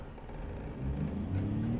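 A truck engine in American Truck Simulator revving while stuck in the wrong gear, a low droning rumble that rises in pitch and loudness partway through, steady and close with no talk.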